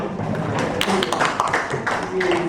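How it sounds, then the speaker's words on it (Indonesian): Classroom audience clapping hands during a school lesson, a short burst of irregular, fairly close claps mixed with voices talking over them. "Oke, tepuk tangan."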